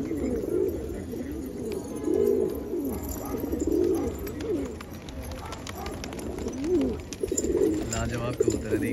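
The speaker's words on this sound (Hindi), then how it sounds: "लाजवाब कबूतर है, देखिए वाह, उड़क भी बहुत प्यारी है" Flying pigeons kept by a fancier coo in soft, rolling low phrases at steady intervals, close and moderately loud, while someone talks quietly in the background.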